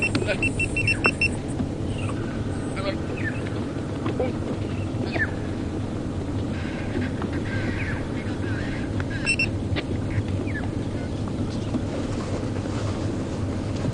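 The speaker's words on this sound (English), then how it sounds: "You guys are going to hear a bit of a beep." A quick series of high electronic beeps sounds near the start, over a continuous low engine and wind rumble from a safari vehicle on a game drive at Djuma Game Reserve.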